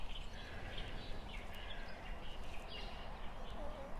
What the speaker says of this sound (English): Imagine more people listening to those lovely birds as they wake up or as they go to sleep